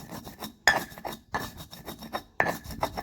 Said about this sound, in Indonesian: kita haluskan ketumbarnya dulu ya sampai halus